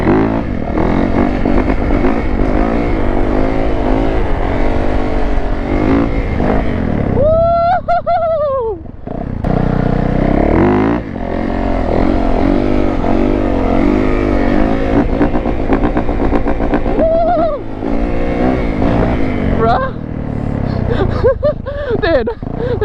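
A Yamaha YZ450 dirt bike ridden around a lot, its big four-stroke engine droning loud and near with repeated revs rising and falling through gear changes for the whole stretch.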